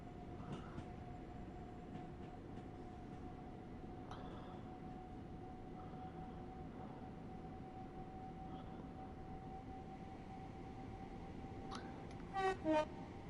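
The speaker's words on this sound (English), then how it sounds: "this is the typical 377's rebuild, so it's going to sound like the 377" A Class 377 electric train running in Train Sim World 6: a low, steady rumble and hum of motion with a sustained whine, faint throughout, ending with a few short horn-like tones near the end.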